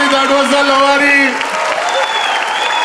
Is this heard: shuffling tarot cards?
no